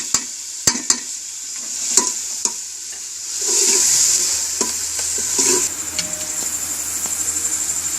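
Tomatoes fry with red chili, turmeric, garam masala, chaat masala and salt for stuffed bhindi, giving a close sizzle. Sharp utensil knocks against the pan come first, then a louder burst of frying and steady stirring.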